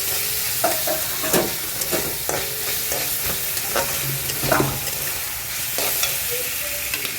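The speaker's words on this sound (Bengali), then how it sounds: "লবণ দিয়ে খুব ভালো করে একটু ভেজে নিলাম" Onions sizzle loudly in a pan with salt, broken up by repeated scraping strokes of a spatula stirring them, close and continuous.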